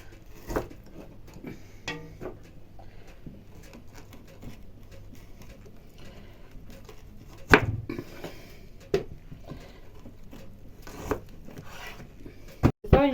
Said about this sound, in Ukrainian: Тепер зараз накришимо сало. То я такими чималими кусочками.